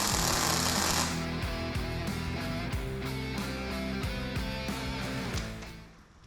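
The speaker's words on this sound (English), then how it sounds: "We're gonna go ahead and put a tack weld here so this doesn't fall out like they tend to do." Buzzing, crackling arc of a welder tack welding an oil pump pickup on a V8 engine being swapped into a G-Body, steady and close, with a rhythmic stuttering hum that fades out at the end.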